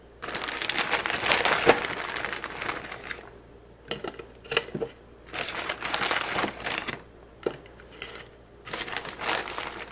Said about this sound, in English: So let me go ahead and put the fruit in here.